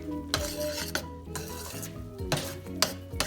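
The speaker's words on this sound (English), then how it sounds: "And I also give this a stir." Rice pudding (arroz con leche) being stirred in a pot on the stove, with a spoon scraping and clinking against the metal in a few distinct strokes over a low background hum, close and fairly loud.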